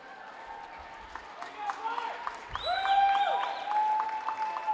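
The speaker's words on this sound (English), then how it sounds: "Now as the parents and viewers cheer on their senior girls" Parents and spectators cheer a senior girls' high school volleyball game in a gym, with a steady crowd roar, scattered claps and rising whistle-like shouts that grow louder midway and hold.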